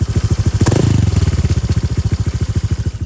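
Modified Honda Vario 150 scooter engine given a slight throttle blip, a brief rise in pitch and loudness before dropping back to a steady close idle putter.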